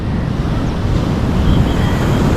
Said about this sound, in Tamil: ஏன்னா மழை டைமில் அப்படியே ரொம்ப ஆக்ரோஷமாக இருக்குது அலையெல்லாம்.